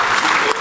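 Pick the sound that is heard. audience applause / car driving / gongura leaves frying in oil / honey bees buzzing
audience applause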